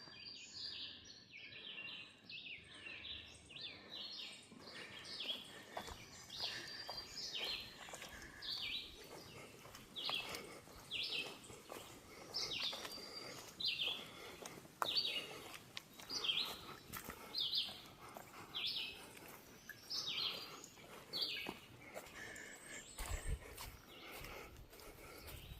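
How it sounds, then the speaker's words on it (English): Many birds sing and chirp busily in woodland along a lakeside trail, with a dense, continuous chorus of repeated calls at moderate distance and no talking. "Birds are going nuts."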